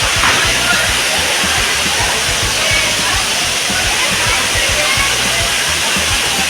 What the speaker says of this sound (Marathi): पाण्याचा झरा वाहतोय